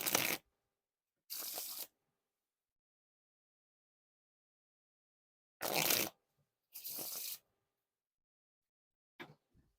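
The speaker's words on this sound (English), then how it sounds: "Now for the riffle shuffle or bridge shuffle." Four separate bursts of riffle shuffling with Theory11 Charity Water playing cards, a brisk papery whir each time with near silence between, close and fairly loud, plus a faint tap near the end.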